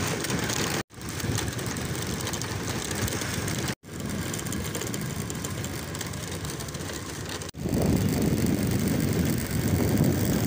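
An underbone motorcycle ridden along a rough, dark road, its engine droning loud and constant with rattling mechanical noise, broken by a few short cutouts.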